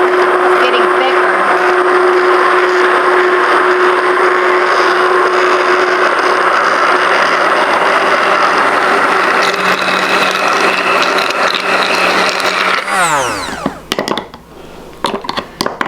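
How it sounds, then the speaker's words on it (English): A blender motor whirs loud and steady while mixing a batch of homemade mayonnaise, its pitch shifting slightly as the mix thickens, then winding down abruptly near the end with a falling whine. "listen to the motor too as the motor is getting thicker"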